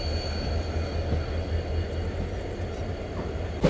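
The Tinsukia Bangalore Express stands at a station while its locomotive reverses and couples on, a low steady diesel hum with a faint whine, then a sharp metallic clank right at the end.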